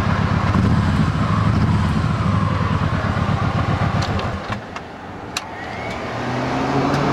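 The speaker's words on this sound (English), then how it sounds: "Fuel injected motor just starts and runs great." Engine of a 2012 Kawasaki Vulcan Nomad fuel-injected motorcycle idling with a steady low rumble throughout, dipping briefly near the end before picking back up, with no talk over it.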